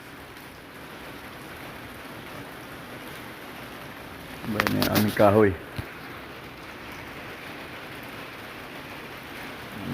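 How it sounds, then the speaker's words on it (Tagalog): Rain falls steadily in a continuous, even hiss through the whole stretch. Someone speaks briefly in the middle over it. "Maulan, maulan."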